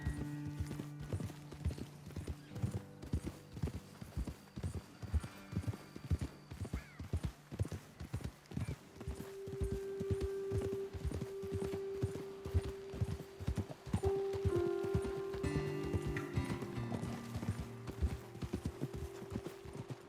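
Horses' hooves clip-clop steadily in Red Dead Redemption 2 as riders climb a trail toward a ledge above a road, a close, rhythmic beat with an occasional whinny and a sustained musical tone.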